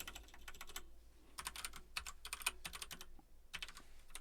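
Rapid keystrokes clatter on a computer keyboard in uneven bursts and pauses while PHP code is being entered, quiet and close with no talking.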